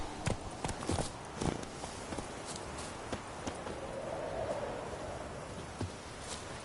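Hooves of Geralt's horse Roach in the video game The Witcher 3, a steady clip-clop of walking steps on a road over quiet ambient outdoor sound, moderately close and clear.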